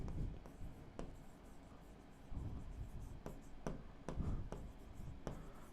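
Pen or chalk writing out a definition during a set theory maths lesson, a steady scratchy stroking with short vertical ticks under a low hum, fairly close and moderately quiet.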